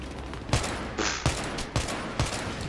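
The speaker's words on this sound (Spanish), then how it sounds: "es que nos disparan por todas partes" Bursts of gunfire in a Battlefield 3 PC multiplayer match crack in quick succession, several sharp shots repeating every half second or so against a noisy background.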